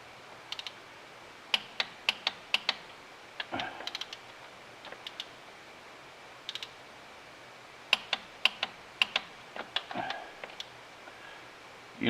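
A torque wrench clicks while bolts are tightened on a 5.9 common-rail Cummins diesel in a 2006 Dodge Ram, with sharp, close clicks coming in small quick clusters separated by quiet pauses and faint rustling.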